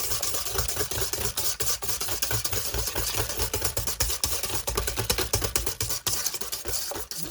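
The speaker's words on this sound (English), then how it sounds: "So we're going to whisk this." Cake batter for a chocolate zucchini cake being whisked in a bowl, a rapid continuous clatter of whisk against the bowl with a steady rhythmic scraping, close and fairly loud, with no talking.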